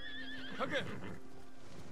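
A horse in the video game Ghost of Tsushima gives one clear, close neigh that rises and falls over steady game ambience, with faint hoof movement around it.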